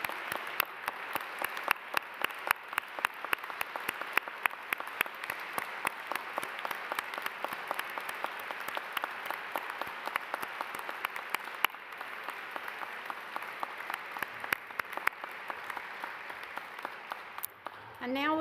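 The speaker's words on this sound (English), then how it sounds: "I'd like all the graduates to stand and give your families and your support folks a real round of applause." Graduates at a Duke University School of Nursing hooding ceremony applaud their families: dense, sustained clapping from a large crowd, steady and fairly loud for the whole stretch, fading at the end as a voice begins.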